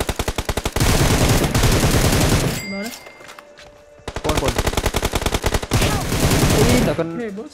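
Rapid automatic gunfire from a PUBG Mobile match, loud bursts of close shots in quick rhythm, pausing briefly and then resuming in further sustained volleys.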